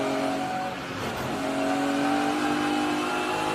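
A race car engine revs hard and steady while accelerating through a corner, with a tyre squeal and rising harmonic whine heard loud and close from the cockpit, and no talking.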